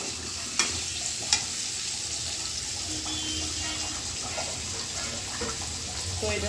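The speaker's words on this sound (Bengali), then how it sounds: "আর এদিকে যে আমার আলু ফুলকপি ভাজা প্রায় হয়ে গেছে।" Potatoes and cauliflower fry in a pan with a steady, close sizzle, broken by two sharp clicks early on, likely a utensil against the pan.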